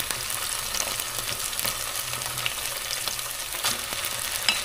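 Sautéed garlic, onion and tomato paste for pork asado fry in a pan with a steady crackling sizzle, broken by scraping stirs and light clinks of a spoon, close and continuous with no talking.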